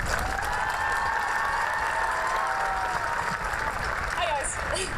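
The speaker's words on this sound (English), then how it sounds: "Let's give one more round of applause to our amazing choir." A high school graduation audience gives the choir a sustained round of applause, dense and steady, with voices chattering and a few whoops rising through the clapping.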